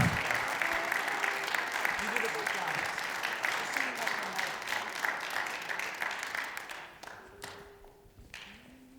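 A gala audience claps in a dense, sustained burst that gradually thins and fades toward the end, with faint murmuring voices underneath.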